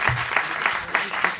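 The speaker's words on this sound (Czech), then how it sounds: "A potlesk ještě jednou." An audience at an evening event applauds, a steady wash of clapping with rhythmic swells about every third of a second, close and full.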